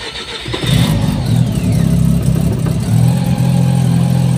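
A cold van engine, a rotary, cranks briefly and catches, then settles into a loud, steady idle with a fast, pulsing rasp close by. No one speaks.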